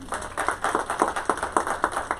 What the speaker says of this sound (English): So let's give our air a round of applause.